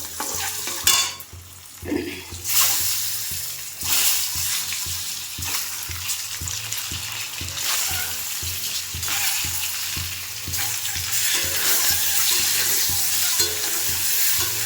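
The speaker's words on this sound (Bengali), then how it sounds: "কড়াইয়ের মধ্যে তেল, লবণ আর হলুদ দিয়ে দিয়েছি, ওই একটা করে ডিম ভেজে নেবো" Eggs frying one at a time in a kadai of oil seasoned with salt and turmeric, a steady loud sizzle with spatula stirs and clinks against the pan.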